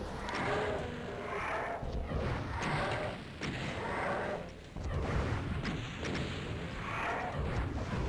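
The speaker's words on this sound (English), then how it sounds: "let's just use a goddamn rocket." Rockets from a launcher in the video game DOOM II, fired again and again in heavy booming blasts roughly every second, loud and alone with no talk.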